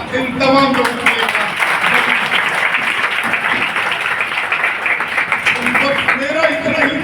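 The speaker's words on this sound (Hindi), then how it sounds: "और सबकी तालियां एक बार इन तमाम लोगों के लिए" Sustained applause from a school crowd of teachers and students fills the whole stretch, dense and loud, with voices mixed into the clapping.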